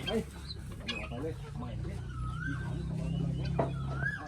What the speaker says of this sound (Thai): ไก่ต๊อก